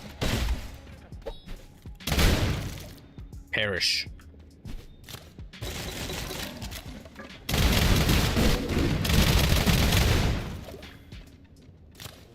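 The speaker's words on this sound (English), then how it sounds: "Exploding shotgun is just, you know, too good." Exploding shotgun blasts in the SULFUR video game, a few heavy booming shots spread across the stretch amid game noise, with a person talking over much of it.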